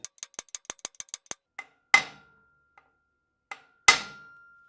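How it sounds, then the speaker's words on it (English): Metal tapping as a new steering bearing race is driven into the head tube of a YZ250 using a cut old race: a quick run of light taps, then a few heavier, ringing hammer blows spaced apart. "Now I'm just going to tap it in the rest of the way using my sacrificial race."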